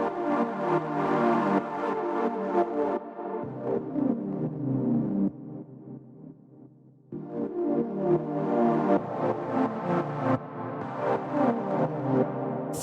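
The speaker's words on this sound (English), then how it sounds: "The first sound that we have here is the pad" Warm synth pad sustaining lush ninth chords at 130 BPM, played alone in a dark style, chords changing every couple of seconds with a softer dip midway before swelling back.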